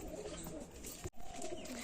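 A pair of caged pigeons, a Rampuri male and a Naptha female, coo softly and close by in a brief, quiet murmur, broken once by a short dropout.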